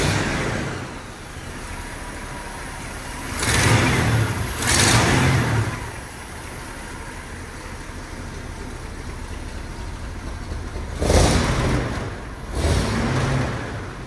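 A 1967 Lincoln Continental Convertible with an automatic transmission idles steadily nearby, broken by four sharp revving bursts that swell and fall back, two early and two later, with no talking.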